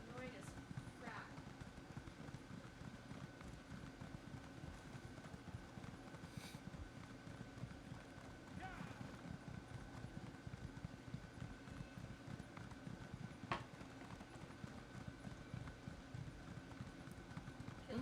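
Rapid, steady clip-clop of horse hooves trotting continuously in a video game, with voices occasionally heard over the rhythm.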